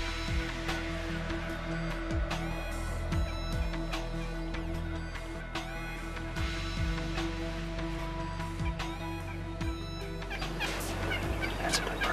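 A group of wild turkey toms gobble repeatedly outdoors during a spring hunt, several loud rattling gobbles overlapping and answering one another close by, with other bird calls in the background and no talking.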